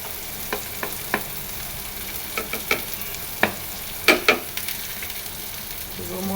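Dried chepa shutki fish frying in hot oil with chopped garlic and onion, a steady soft sizzle broken by a series of sharp spatula scrapes and stirring clatters, close and fairly quiet, with no talking.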